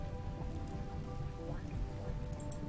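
Steady rain falls in the video game Rimworld, a dense, even patter and hiss of drops that goes on without a break at moderate volume.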